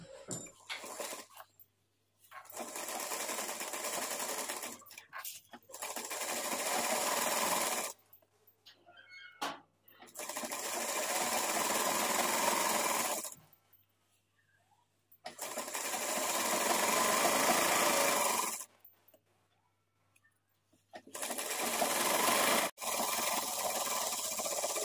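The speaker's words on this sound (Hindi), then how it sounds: "तो यहाँ पे हम सिलाई चला लिए हैं" A sewing machine stitches fabric for a latkan in several bursts of steady whirring, each a few seconds long, separated by pauses of near silence, close and fairly quiet.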